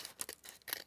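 Scissors snip through paper while collaged corner tucks are cut for a junk journal, a few quick, close, quiet cuts in succession with no talking.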